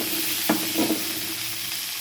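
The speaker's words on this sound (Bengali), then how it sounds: "এবার আমি দিয়ে দিলাম রসুনটা একটু ভাজা হোক" Garlic fries in oil in a pan for a soybean and winter vegetable curry. A soft, steady sizzle is broken by a couple of brief stirring scrapes, with no talking.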